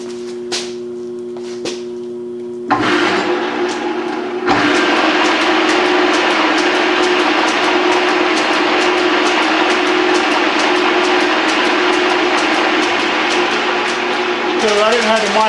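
Pratt and Whitney lathe spindle running in at high speed after restoration, a steady mechanical whir with faint rhythmic clicking that starts after a few seconds of quieter ticking and continues loudly to the end.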